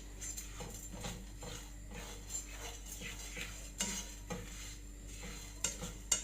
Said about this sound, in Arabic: تقلبي باستمرار عشان مفيش حاجه تتحرق منك